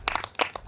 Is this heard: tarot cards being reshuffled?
no